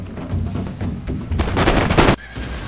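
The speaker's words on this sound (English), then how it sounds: "I have my line right here ready to fire" A musket line fires a volley in the Empire: Total War strategy game, a dense ragged crackle of many shots rolling and building into loud overlapping bursts before cutting off, with battlefield ambience underneath.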